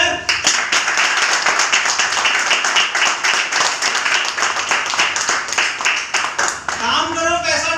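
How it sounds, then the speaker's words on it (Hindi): Sustained audience clapping fills the room at a business plan talk, loud and continuous, then breaks off near the end as a voice comes in. "तालियां यार।"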